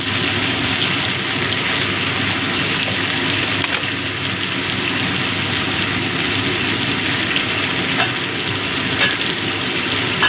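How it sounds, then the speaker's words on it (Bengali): Ginger-cumin paste frying in a pan while being stirred, a steady loud sizzle with scraping stir noises running throughout, no voices, during preparation of a Bengali parshe fish curry with beans, potato and bori. "এই আদা জিরে বাটা দিয়েও ভালো করে মিশিয়ে দেবো"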